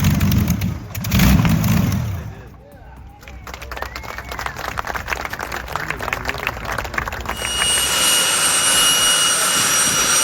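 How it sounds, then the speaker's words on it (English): A jet-powered funny car dragster's engine thunders loudly on the Santa Pod quarter-mile drag strip, with crowd noise and clapping early on, then a sustained high-pitched whine as the car runs. "Martin Hill ran his Fire Force 3 jet car, a funny car dragster, down the Santa Pod quarter mile."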